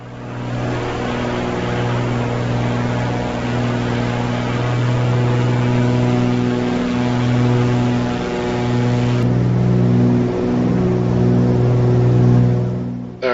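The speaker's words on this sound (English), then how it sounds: "Let's bring the RPM down to 2700 before we cook our engines." A light aircraft engine drones steadily during climb after its RPM is pulled back to 2700, a loud, even tonal hum with a slight shift in pitch partway through.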